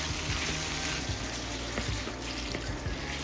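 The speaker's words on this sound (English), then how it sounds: "Let it cook until it's nicely brown, breaking it up as you go" Lean ground beef frying in a pan with onions and bacon, a steady close sizzle running throughout with faint stirring scrapes.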